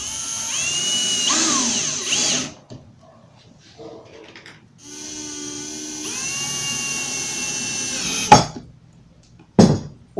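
A power drill drives screws into a modern modular wooden wall shelf, with two long steady whirring runs separated by pauses and followed by a couple of sharp knocks, close and fairly loud.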